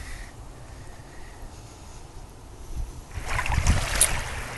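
Waves wash onto a cold east Texas shoreline. Wind-like rushing sits low in the background at first, then a louder, nearer surge of water breaks and spreads out near the end.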